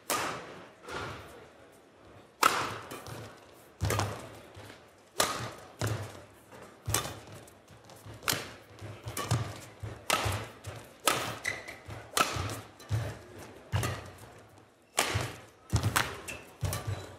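Shuttlecock struck by rackets in a women's singles badminton final, Arctic Open 2024, with sharp thwacks in an irregular rally rhythm, close and distinct, each followed by brief decay and soft court noise between hits.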